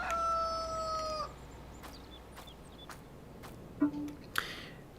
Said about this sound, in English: We now have our chickens.